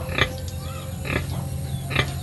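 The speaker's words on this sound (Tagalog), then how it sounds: "Inahing baboy nila, oh." A sow on a farm grunts three times in short, spaced bursts at close range, with steady low background hum and no talk.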